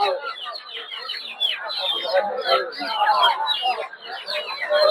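Native chickens at a poultry market cluck and chatter continuously nearby, several birds overlapping in busy, moderately loud calls.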